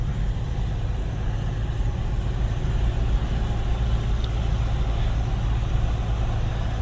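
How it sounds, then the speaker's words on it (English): Turbocharged vehicle engine labouring up a steep road climb, a steady loud low drone with continuous rumble and no breaks, no talk over it. "I hear that turbocharger working on this engine."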